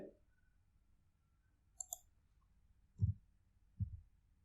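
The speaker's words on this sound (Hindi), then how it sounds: "मैं यहाँ से इसको इंपोर्ट पे क्लिक करता हूँ, चूज़ करता हूँ फाइल" Sparse, crisp computer mouse clicks while importing a file into a MySQL database: a couple of sharp ticks, then two heavier clicks about a second apart, close and isolated in a quiet room.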